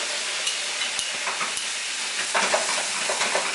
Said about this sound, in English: there is going to be a big flame here. And we want a big flame because we want to cook the alcohol off